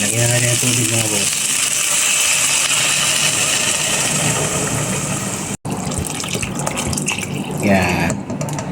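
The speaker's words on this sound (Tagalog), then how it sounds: "Ayan, lagyan na natin ang tubig mga boss." Water pours and gushes into a cooking pot while making Filipino sopas, a steady rushing fill under a continuous background hum, with a voice briefly speaking at the start.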